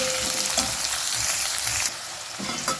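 Onions hiss and sizzle loudly in a hot pan while being stirred, close and constant, dropping slightly quieter near the end with a brief clatter; no one speaks.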